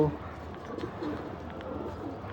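Cheeta Bagha pigeons coo softly over steady rooftop background noise, a low continuous murmur with no clear pauses.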